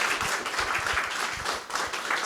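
A concert audience at Portside Live claps for a singer, a dense, lively burst of applause close to the microphone with some individual hand claps standing out, lasting a couple of seconds.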